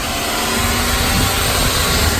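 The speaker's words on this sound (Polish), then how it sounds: "Silnik wchodzi bez zarzutu." A car's engine idles steadily just after being started, a loud continuous low hum with a broadband whir, recorded on a large outdoor lot of export cars in Denmark.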